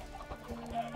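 Chicken clucking in a video game, a few short soft clucks in quick succession, fairly quiet against a faint background with no talking.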